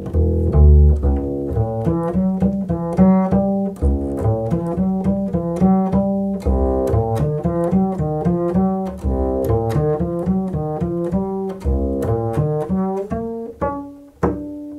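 A double bass plucked pizzicato through a passage of Bach's Cello Suite No. 1 Prelude, a fast, busy run of resonant low notes with sharp attacks, played solo and close with no voices.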